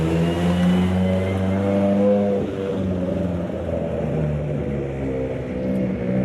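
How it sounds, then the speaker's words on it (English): Car with a big exhaust pulling away at a Corolla meet, a loud, close, rumbling engine note rising through revs and then holding steady as it drives off. "big exhaust on that."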